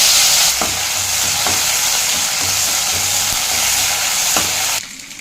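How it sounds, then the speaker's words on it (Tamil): Loud, steady sizzle of a handful of curry leaves frying in hot oil while idli podi is being made, with a few faint stirring knocks under the hiss before it cuts off abruptly. "அதே எண்ணெயில் ஒரு கைப்பிடி கருவேப்பிலை சேர்த்துக்கலாங்க"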